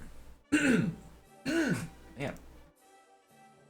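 A man clears his throat twice in quick rough bursts, close to the mic, followed by a shorter third rasp and a brief spoken word.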